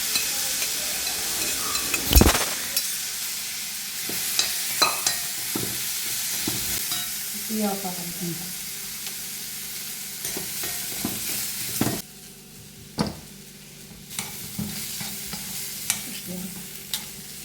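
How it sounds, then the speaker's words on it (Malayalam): Curry with curry leaves and cooked koorka stirred in a hot pan: a spoon scrapes and clatters against the metal over a constant frying sizzle, with a few sharp knocks and irregular stirring strokes close by. "കറിവേപ്പില ഇട്ടു നന്നായിട്ട് ഇളക്കാം അതിലേക്ക് വേവിച്ച കൂർക്കിട്ടു"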